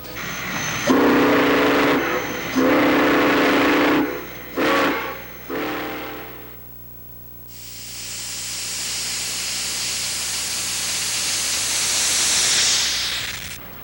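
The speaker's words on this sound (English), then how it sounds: "Steam not only powers the big trains, but the little ones as well." A small steam engine's whistle blows in several loud blasts, followed by the hiss and rumble of the engine running steadily nearby, at a John Deere expo in Rollag, Minnesota.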